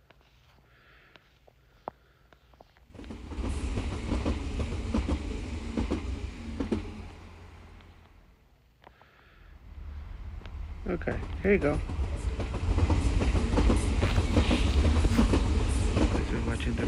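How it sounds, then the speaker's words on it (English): A train in the TrainStation 2 video game rumbles across a bridge, its rolling rail noise rising, fading and then building again over about 17 seconds while someone talks briefly. "As you're watching the bridge, the train is going through the bridge."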